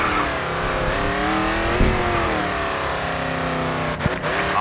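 A race car engine at full throttle in the racing game Grid 2, roaring steadily and loud with rising harmonic pitch, a brief scrape near the middle and a sharp clunk toward the end.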